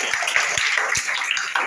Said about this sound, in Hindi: चलिए सर के लिए भी हम लोग एक जोरदार ताली बजाएंगे